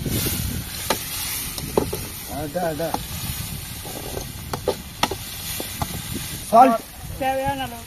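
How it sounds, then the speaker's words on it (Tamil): Green chillies are stirred into rabbit fry in a pan, with a sizzling hiss and scraping of the spoon running under someone talking throughout. "பச்சை மிளகா சேர்த்துருவோம் சார் கிண்டு ஒரு கிண்டு கிண்டு பார்க்கலாம்"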